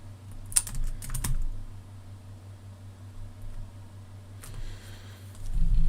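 A computer keyboard is typed on in brief quick bursts of light clicks over a steady low fan hum, with quiet gaps between the bursts.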